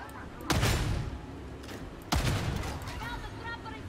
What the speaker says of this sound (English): It's a shame that the bolt pistol doesn't seem to pierce that much.